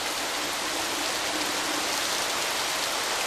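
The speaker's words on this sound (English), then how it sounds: "Is that rain?" Steady rain in the colony-building video game Colonize, a continuous broadband hiss of falling water that holds evenly throughout with no talk over it.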